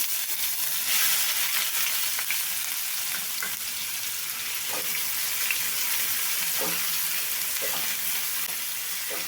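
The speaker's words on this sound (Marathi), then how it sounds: "मोहरी जिरं हिंग कांदा टाकायचा" Mustard seeds, cumin, asafoetida and onion frying in hot oil, a constant close sizzle with soft spattering and periodic stirring clatters, no voices.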